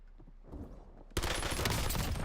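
Gunfire in Black Ops Blackout, a quiet shot or two at first, then sudden dense, loud rapid fire that continues to the end.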